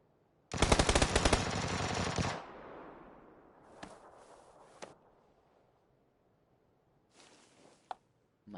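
Shotgun and M16 fire in PUBG on PS4: a loud, rapid automatic burst, then a decaying tail, a few sharper shots later on, with quiet gaps between.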